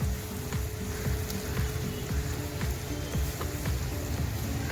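Ridge gourd and potato curry frying in a pan, a steady dense sizzle with faint crackles and scraping throughout, no voices.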